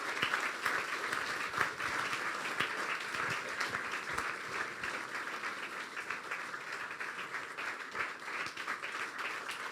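A church audience at a sermon gathering applauds a child called up front: dense, steady clapping from many hands, sustained and fairly loud throughout with no talk over it.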